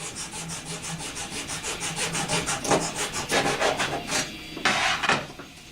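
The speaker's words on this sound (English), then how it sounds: "Back to the little handy wood hacksaw here. Just want to cut that off." Small hand hacksaw cutting through wood, a steady run of close, rasping back-and-forth strokes about twenty in all, growing slightly louder and harsher toward the end before a final few strokes.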